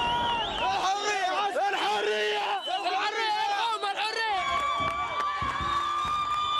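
A street crowd of angry young protesters roars and shouts in a dense, continuous mass of voices, with cheering and whooping rising over a steady loud hubbub throughout.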